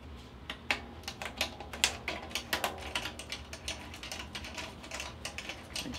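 Two drum keys turn the tension rods on the lugs of a snare drum, producing a run of small dry metallic clicks and ratcheting ticks, close and fairly quiet, irregular and alone.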